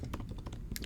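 Quick, uneven keystrokes clatter on a computer keyboard as code is written, a short burst of close, light taps.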